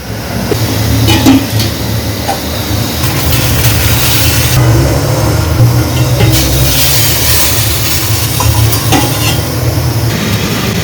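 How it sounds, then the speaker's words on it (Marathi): Water at a vigorous rolling boil in a pot, heated for making rice papadi, gives a steady, dense bubbling roar that stays even and close throughout, with no voices. "दहा मिनिटात पाण्याला उकळी आलेली आहे, अगदी खळखळ."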